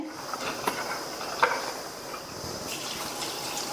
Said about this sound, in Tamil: இது கூட கடலைப்பருப்பு லேசாக முங்குற அளவுக்கு தண்ணி சேர்த்துக்கலாம்.